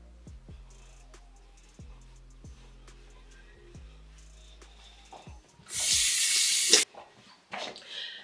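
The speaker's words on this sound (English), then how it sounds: "So I wash my hands to get that off." Running tap water splashes loudly over hands at a sink for about a second, then trickles and drips, with faint low thuds and clatter earlier in a quiet bathroom.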